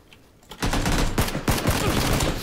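Rapid AK rifle fire in PUBG Battlegrounds, a loud close burst of shots in quick succession starting abruptly after a quiet moment and continuing to the end, with no talk over it.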